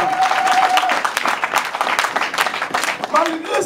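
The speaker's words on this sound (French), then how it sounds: "Acclamons pour la gloire de Jésus." A church congregation breaks into sustained applause, dense continuous clapping filling the room at close range, with voices and shouts mixed through the crowd noise.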